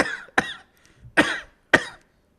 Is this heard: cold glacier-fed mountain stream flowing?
no